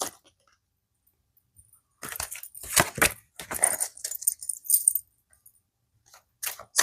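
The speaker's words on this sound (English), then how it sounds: "I shuffle my cards" Tarot cards shuffled by hand from the top, heard as a few seconds of close, crisp riffling and slapping bursts after a near-silent start, with a short flick at the end.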